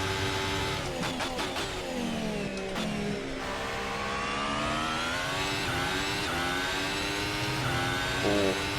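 A Formula 1 car engine in the F1 2018 video game, racing at the German Grand Prix, screams at high revs. It rises and drops in pitch through gear changes as the car accelerates, loud and continuous throughout.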